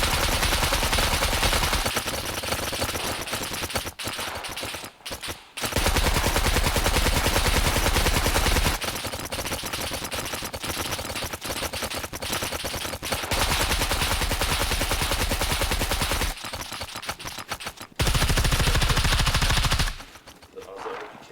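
Sustained automatic fire from an RPK machine gun in the survival game Scum, loud and close, coming in long bursts separated by short pauses, with brief talk in the gaps.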